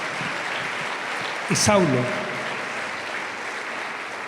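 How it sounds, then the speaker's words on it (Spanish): A church congregation claps in a steady, dense wash of applause throughout, while a voice speaks briefly over it partway through. "Denle un aplauso a la gloria del Señor."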